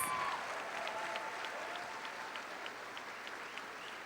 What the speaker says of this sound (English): Please give this outstanding class a round of applause